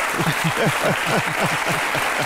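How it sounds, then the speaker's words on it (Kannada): Audience applause in a television courtroom-style talk show studio, a dense steady wash of clapping hands that stays loud and even throughout with no voices on top. "ರಜತ್ ಅವರ ರಿಸರ್ಚ್ಗೆ ಜೋರಾದ ಚಪ್ಪಾಳೆ ಬರಲಿ"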